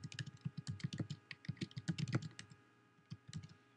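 Rapid keystrokes on a computer keyboard while entering a password and email, quick, quiet clicks in uneven bursts with a short pause near the end.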